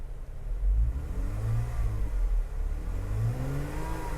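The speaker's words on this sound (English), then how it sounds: "Let's go and rev the car a little bit." The 3.6-liter V6 in a 2018 Jeep Wrangler Unlimited Sport revs twice while parked, each rise and fall in pitch heard clearly and close over a low idle rumble.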